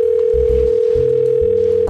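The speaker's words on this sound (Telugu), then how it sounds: "అఖిల్ ఫోన్ వస్తుందిరా నీదే" Mobile phone ringtone sounding nearby with a steady electronic tone over a repeating low melodic pattern, loud and uninterrupted for the whole moment.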